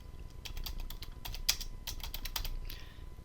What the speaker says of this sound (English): to do that you just click somewhere on that row and begin typing.